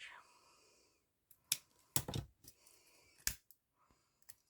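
Scissors snip a length of ribbon for a wavy pinwheel hair bow, giving a few sharp, separate cuts close to the mic with quiet pauses between them.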